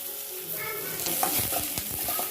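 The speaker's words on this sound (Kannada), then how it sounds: "ಈಗ ಒಂಚೂರು ಫ್ರೈ ಮಾಡ್ಕೋತಾ ಇದ್ದೀನಿ." Paneer and cauliflower fry with ginger garlic paste in a pan, a close, dense sizzle with stirring and scraping clatter throughout the short stretch, no voices.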